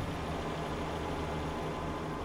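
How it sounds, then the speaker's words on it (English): A tractor engine in Farming Simulator 17 drones steadily, a low rumbling hum with a faint whine over it, unchanging and unaccompanied. "Oh, look out for that tractor."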